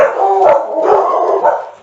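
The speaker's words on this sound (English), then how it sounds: "my dog just like lost it" A dog barks excitedly several times in quick succession, loud and close, with yelping, howl-like tones between the barks.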